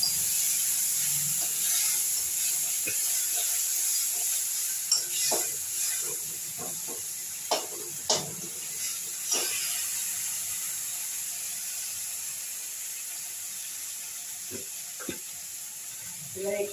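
Ground coriander, cumin and turmeric pastes with chickpeas frying in a pan, giving a steady low sizzle with occasional soft stirring scrapes and clicks, no talking.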